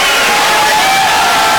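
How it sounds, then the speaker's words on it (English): Dense, loud roar of a basketball crowd cheering and shouting at a college game against Harding, a steady wall of voices filling an indoor arena without pause. "The Harding crowd is excited."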